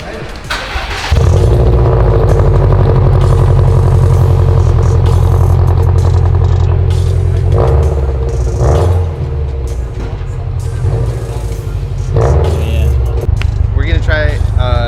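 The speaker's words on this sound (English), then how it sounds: "We're gonna try to measure the loudness of the exhaust again." A Subaru STI with a newly installed exhaust cranks and fires up, then settles into a loud, rumbling idle with a few blips of revving, while a person talks over it at times.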